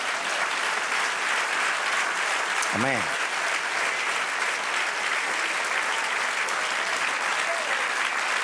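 A church congregation applauds steadily and loudly for several seconds, a dense wash of clapping with a brief spoken word partway through.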